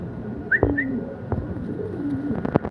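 Pigeons coo close by in a few soft, low, throaty calls spread across the moment, with a couple of brief higher chirps and faint rustling around them, no one speaking.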